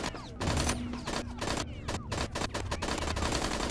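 Rapid machine gun fire from a video game weapon in the B.D.S.M. demo, dense bursts of shots running almost continuously and loud, with brief gaps between volleys.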